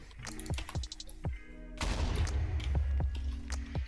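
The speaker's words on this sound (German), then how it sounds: "der Creeper explodiert ihn einfach komplett" A Minecraft creeper explodes in a sudden loud burst partway through, with a rumbling tail. Quick clicking keyboard taps and short game sounds come before it.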